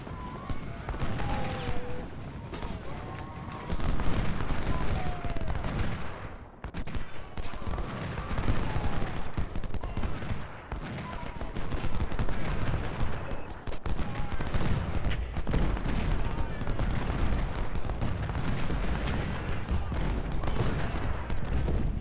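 Civil War battle in the strategy video game Ultimate General Civil War: continuous crackling musket volleys and rattling gunfire with booming artillery, dense and sustained, a few faint whistles and calls mixed in.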